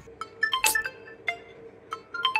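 A phone ringtone chirps in short electronic bursts, a few clear repeated notes at moderate level in a quiet room.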